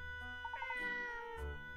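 A cat meows in the video game Layton's Katrielle and the Millionaires' Conspiracy, a short series of quick chirping mews over a soft musical backdrop, close and clear.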